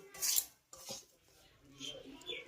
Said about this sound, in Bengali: এইভাবে অনবরত নেড়ে চেড়েই সুজিটাকে ভেজে নিতে হবে